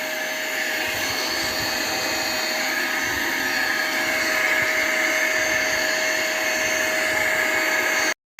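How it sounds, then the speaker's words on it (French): Compressed air blow gun cleaning a car air filter, a loud, steady rushing hiss with a faint whining tone that holds constant until it cuts off abruptly near the end, with no talking. "on va donner un petit coup de soufflette devant"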